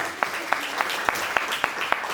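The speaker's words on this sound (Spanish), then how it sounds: "Vamos a darles un aplauso a los presentadores, a los colegas." Audience at an academic book presentation applauds the presenters, a soft, diffuse patter of clapping with a few sharper, evenly spaced claps standing out.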